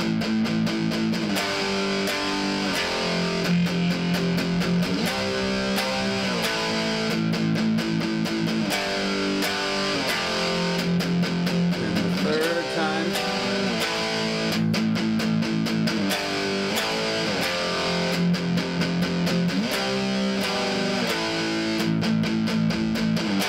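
Loud distorted electric guitar playing a rock riff of chugging power chords, sustained and steady throughout with a dense, saturated tone and no talking.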